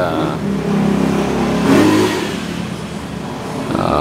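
An old motorcycle engine idles and revs up briefly with a rough, mid-pitched drone, then settles back to a steady running rumble, fairly close and loud.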